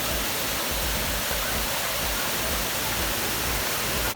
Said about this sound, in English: You see the water behind me?